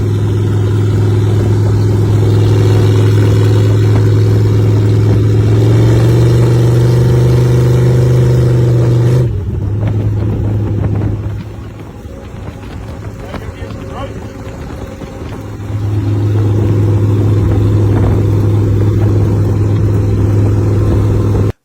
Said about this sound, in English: Vehicle number one, the 1933 Chevrolet truck